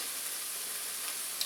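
Onions fry and caramelize in a pan with a soft, steady sizzle, quiet and unbroken throughout, with a faint tick near the end.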